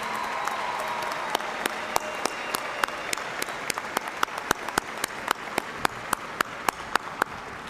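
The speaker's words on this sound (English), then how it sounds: "lives with a generous round of applause." Applause for faculty and staff at a university commencement, a broad wash of clapping from a large crowd with sharp, evenly spaced single claps standing out on top.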